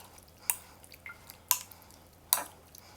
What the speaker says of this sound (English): We'll give that a quick stir.